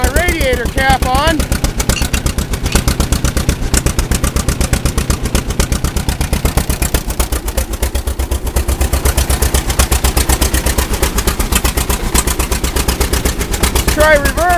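Old John Deere Model A tractor engine running after years of sitting, a loud rapid pop-pop-pop firing rhythm close by and steady throughout, with people talking over it.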